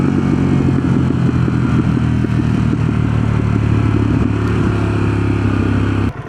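Harley-Davidson Pan America motorcycle, custom Special model, its engine running loud and steady close by with a continuous low rumble throughout, cutting off sharply at the very end.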